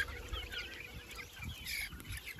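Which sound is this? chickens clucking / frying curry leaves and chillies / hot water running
chickens clucking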